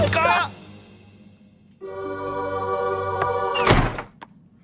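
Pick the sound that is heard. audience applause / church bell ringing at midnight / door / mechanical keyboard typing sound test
door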